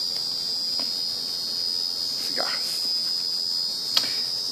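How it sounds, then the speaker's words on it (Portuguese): Cicadas drone steadily as a thin, continuous high-pitched buzz that fills the background throughout, with a few faint chirps and rustles breaking through. "Cigarras."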